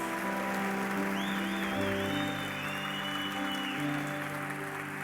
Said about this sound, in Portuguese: Aplauda glorificando a Deus.